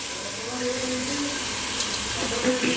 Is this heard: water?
yes